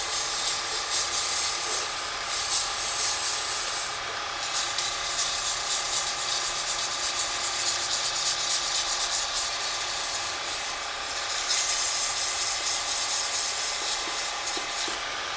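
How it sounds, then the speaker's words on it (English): Steady, continuous rasping of 220 grit sandpaper against a spinning pen blank, a close, even abrasive hiss that runs uninterrupted with slight swells in intensity. "220 grit sandpaper."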